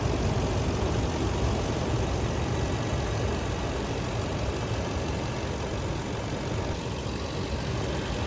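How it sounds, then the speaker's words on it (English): A vehicle engine running steadily after a fireworks durability test of an eFlexPro flex-fuel conversion unit, a continuous low idle rumble with a constant hiss on top, with no voices. "the vehicle is running"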